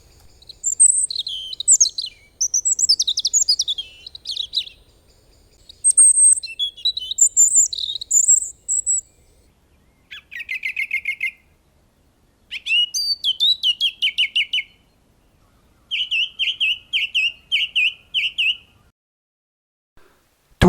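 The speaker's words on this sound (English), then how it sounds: "Some of the birds thought spring had arrived and started to sing." Garden birds in the New Forest sing clear, high, chirping and trilling phrases in separate bursts divided by short silences, close and bright, with no voices.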